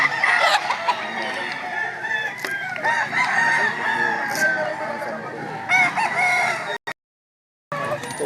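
Roosters crow repeatedly amid clucking chickens at a busy, noisy fowl market, with people talking in the background and a brief dropout near the end.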